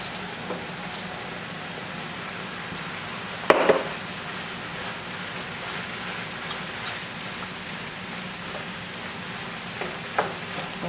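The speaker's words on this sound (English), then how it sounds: "Now I'll add in my cabbage." Cabbage frying in a pan after garlic, a steady soft sizzle throughout with a sharp clatter near the start as it is stirred or dropped in, and a few light knocks later.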